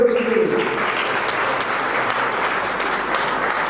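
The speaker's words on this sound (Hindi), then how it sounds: "एक बार ताली बजा दो बच्ची के लिए" Steady applause from an audience at a student awards and felicitation ceremony, dense and continuous clapping throughout with a brief voice at the start.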